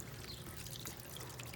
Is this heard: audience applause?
no